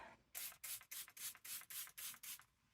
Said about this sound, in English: spraying some water